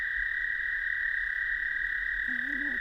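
A frog, either a bullfrog or a leopard frog, gives a short, low, wavering croak near the end. It sounds against a loud, constant high-pitched chorus of other frogs calling.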